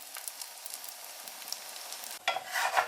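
Leavened flatbread frying in sesame oil in a pan, a steady soft sizzle that swells louder and crackles as the bread is flipped over near the end.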